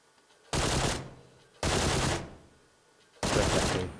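Three long bursts of automatic gunfire from PUBG on the Sanhok map, each loud and close, roughly a second apiece with short quiet gaps between, no talking over them.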